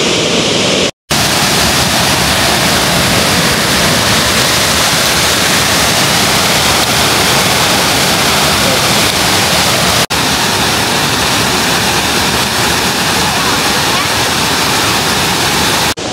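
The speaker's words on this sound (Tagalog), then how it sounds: "ayan yung waterfall. Tanggalin ko yung mic para marinig yung water." Shifen Waterfall in Taiwan roars as a loud, steady, broadband rush of falling water, continuous and close, with a brief dropout near the start and no talking.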